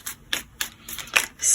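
Tarot cards being gathered and put away, with a handful of quick, sharp card slaps and clicks in an uneven rhythm, close and fairly clear.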